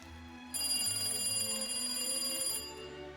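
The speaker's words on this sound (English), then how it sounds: "Is that the phone?" A telephone rings late at night in a French chateau with a bright, sustained electronic trill lasting about two seconds, clear and fairly close in a quiet room.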